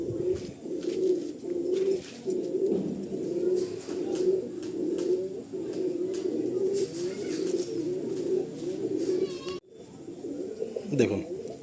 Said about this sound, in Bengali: পায়রাগুলো দেখুন, মালবাহী পায়রা করেছেন সেটাতেও টপ নচ পায়রা